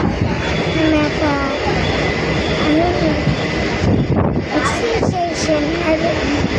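A train moving near a station rumbles loudly and continuously, with rattling wheels and a steady roar, and a few faint squeals near the end.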